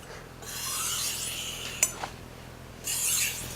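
A kitchen knife is ground flat on a sharpening stone, making a close, gritty rasping stroke, a couple of sharp clicks in the middle, then another stroke.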